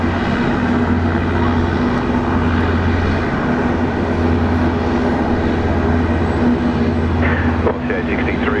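A jet airliner lands on runway 16 right at Sydney Airport, a steady loud engine roar with a low droning hum, partly masked by an air traffic control voice.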